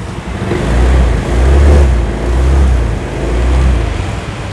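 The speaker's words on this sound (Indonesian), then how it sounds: "Mesinnya juga enak nih, masih halus. Kita gas dikit." A used 2012 Honda Vario scooter engine idles smoothly and is given a few light throttle blips, its low rumble swelling and easing in gentle waves, close and steady with no talk.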